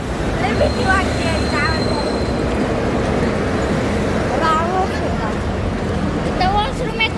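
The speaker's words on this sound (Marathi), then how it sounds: "हा इथं वर मेट्रो आहे" A metro train running on an elevated track overhead, a loud steady rumbling roar that fills the whole stretch while people talk nearby.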